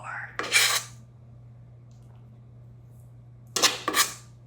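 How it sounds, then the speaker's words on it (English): A metal offset spatula scoops and spreads icing on a cake in two short, soft scraping strokes separated by quiet, with a low steady hum underneath. "I'm gonna take my offset spatula, probably get a little more."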